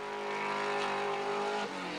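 A touring race car at Bathurst, new and barely worked on, driven hard, its engine holding a loud, steady high-revving roar with a brief dip in pitch near the end as it shifts or lifts.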